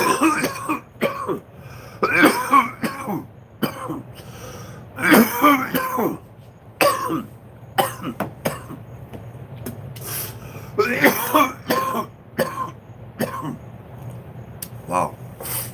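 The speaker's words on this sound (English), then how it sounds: "Kind of a rough cough this morning, guys." Repeated rough, hacking coughs and throat clearing come in irregular bursts close by over about fifteen seconds, with short gaps between fits.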